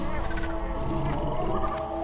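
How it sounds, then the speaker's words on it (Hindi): Lion roaring in a jungle, a dense continuous growling roar held steady throughout, layered under a spoken voice. "शेर की दहाड़ अलग सुनाई दे रही है।"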